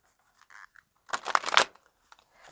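Tarot cards being shuffled by hand during a reading, a short burst of riffling and flicking about half a second long, close and fairly loud, with faint soft handling noises before and after.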